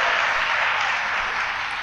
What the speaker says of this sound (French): On applaudit le Seigneur pour ça, frère et sœurs.